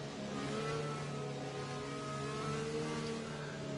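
Race car engine in a racing video game, held at light steady throttle behind the safety car at the Canadian GP in Montreal, a continuous tonal drone with slight pitch wavering, steady and fairly loud.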